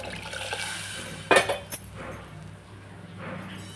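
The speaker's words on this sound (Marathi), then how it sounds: "तर हेच गरम पाणी पुन्हा टाकून घेऊ त्याच्यात." Hot water, reused from steaming the sprouts, poured back into an usal curry, a short sharp splash and gurgle in the middle, then quieter bubbling.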